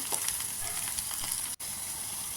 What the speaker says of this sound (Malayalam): വെളിച്ചെണ്ണ ഒഴിച്ച് ചെറിയ ഉള്ളി ചെറുതായി അരിഞ്ഞ് ഒന്ന് മൂപ്പിച്ചെടുക്കുക ഇഞ്ചി പച്ചമുളക് വെളുത്തുള്ളി കുറേശ്ശെ മതി അതൊന്നിട്ട് ഒന്നും കൂടി മൂപ്പിച്ചെടുക്കുക